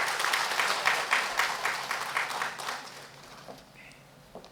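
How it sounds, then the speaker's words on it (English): Audience at a health minister's speaking event giving a round of applause, clapping that starts moderately loud and tapers off into faint room noise. "a huge round of applause for everybody on here"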